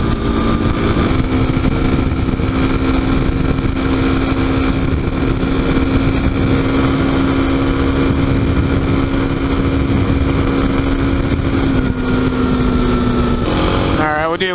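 A Kawasaki KLX dirt bike on DOT knobby tyres riding on the street, its engine droning loudly and steadily at a held pitch with wind rush, then dropping in pitch near the end.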